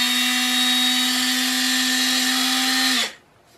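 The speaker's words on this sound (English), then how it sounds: "this is probably a good time to drill out those little holes because they inevitably got filled up with epoxy when you glued the part together" A power drill whines at a steady pitch while clearing epoxy out of small holes in a glued part during a Stormy 45 assembly. The close, loud tone holds for about three seconds, then winds down and stops.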